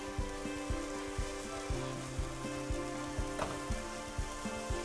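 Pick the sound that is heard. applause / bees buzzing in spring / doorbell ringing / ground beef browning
ground beef browning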